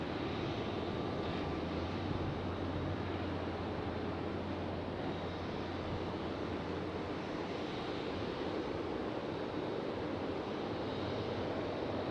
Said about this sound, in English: So that's American Airlines 173 coming in from London Heathrow